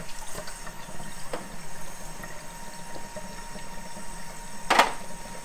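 A removable part from a Siemens coffee machine is rinsed under a running kitchen tap, a steady hiss of flowing water with a brief splashing burst near the end.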